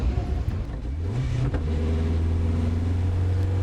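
A classic Marcos racing car's engine runs loud and close at wet Silverstone, rising in pitch as it revs and then holding a steady, droning note.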